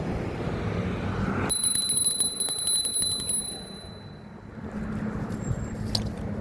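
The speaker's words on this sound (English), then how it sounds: "I'm road raging on this bell, man." A bright metallic bell on a Hiboy S2 Pro electric scooter rings in a rapid trill for about two seconds, loud and close over outdoor traffic noise, then a single faint ding.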